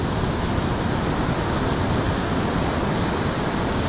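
Waves washing onto a Philippine shore during shore casting: a loud, unbroken broadband rush of surf, close and steady throughout, with no speech.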